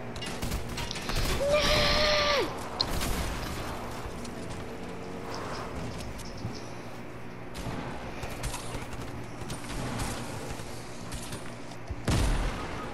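Scattered gunshots ring out in the Fortnite video game: a few sharp, loud cracks spaced several seconds apart over ongoing in-game ambience, with a short whistling tone near the start.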